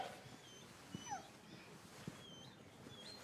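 A small dog gives faint, high whimpers and soft yips in a quiet period room, thin and brief against low background hush.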